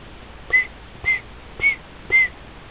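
A pet bird whistles in imitation of a microwave being programmed, giving four evenly spaced short electronic-sounding beeps, clear and close, with no talking.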